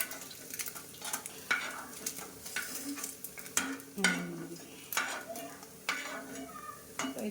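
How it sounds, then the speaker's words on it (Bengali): Fish sizzles and crackles in oil in a pan with intermittent scraping and clinking of a utensil against the pan, close up, without talking. "ভাজা মাছ খাওয়ার জন্য হয়ে গেল আর কটা ভেজে নিই"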